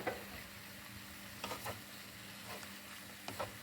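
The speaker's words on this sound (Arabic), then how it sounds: "دابا كنخلطو واحد الخضار مع الشدر ديال الدجاج" Vegetables and chicken breast stirred together in a pan, with a steady low sizzle and a few soft scrapes of the utensil against the pan.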